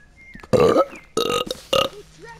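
Three loud, close burps in quick succession, each a low, rough croak lasting a fraction of a second, separated by brief quiet gaps with faint background sounds.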